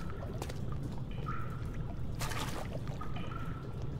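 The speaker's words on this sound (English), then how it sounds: "I'm gonna put one toe in this water" A character steps into water in the horror game Amnesia: The Dark Descent, with soft sloshing splashes and trickles over a constant low ambient drone, a sharper splash near the middle.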